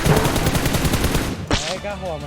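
Rapid burst of gunfire in the mobile game PUBG Mobile, loud close shots in quick succession ending with a sharp crack, followed briefly by an excited voice.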